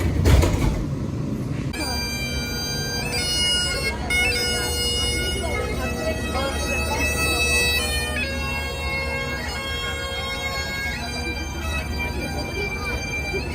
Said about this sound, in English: We are on the tram